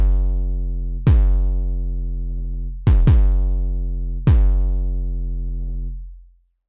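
Deep 808 kick bass synthesized in Massive, looping at 150 BPM: four booming hits with long, sustained pitched tails, the second and third close together, each decaying before the next, alone and loud with no voices.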